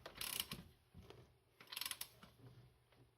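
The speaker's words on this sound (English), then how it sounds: "Alright, torque this down." Ratcheting torque wrench tightening a bolt on a rebuilt strut assembly for a Nissan 300ZX Z31, two bursts of quick metallic clicks separated by a pause, fairly faint.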